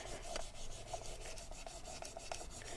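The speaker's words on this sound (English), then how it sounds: "So let's just rub that down" Paint being rubbed down by hand on an MDF crafting surface makes quiet, close, rhythmic scraping strokes, several in a row with short pauses and no talking.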